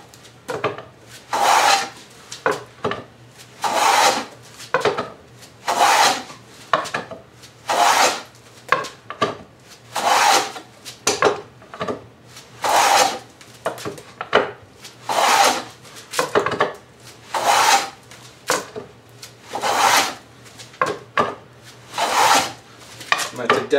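A hand plane shaves wood on a Roubo-style shelf, repeated rhythmic swooshing strokes about every second or two, close and clear with brief pauses between passes.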